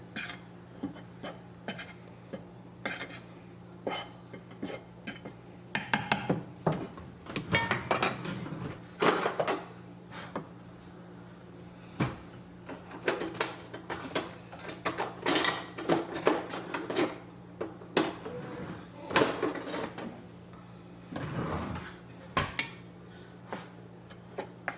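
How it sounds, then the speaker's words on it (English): Flour, salt and other dry ingredients for banana bread being mixed in a bowl, with repeated clinking and scraping of a utensil against the bowl in irregular bursts, close and fairly quiet, with no talking. "Mix it well together to combine the dry ingredients."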